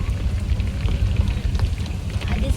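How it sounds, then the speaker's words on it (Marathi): Rain pours down over an outdoor market in a steady, dense patter that fills the scene. The hiss stays close and even for a few seconds, with no voices. "ते बघा पाऊस यायलाय का नाही बघा."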